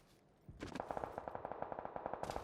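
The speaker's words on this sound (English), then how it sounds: "It's a double Uzi." Double Uzi fire in PUBG on console: rapid, evenly spaced automatic bursts, loud and close, running almost continuously for about two seconds with no talk over them.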